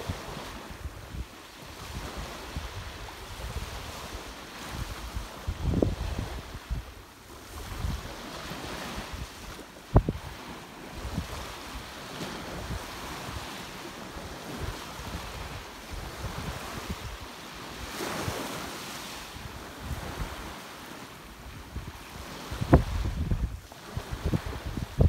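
Ocean waves wash up on a Thai beach, a steady surf roar with swells rising and falling over about 25 seconds, mixed with wind buffeting the microphone and a few sharper splashes.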